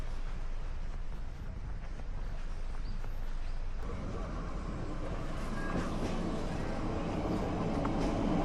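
Busan's beach train runs on its coastal rails between Mipo and Cheongsapo beside a seaside walking path, a low rumbling roll that grows louder and closer partway through, over steady outdoor background noise.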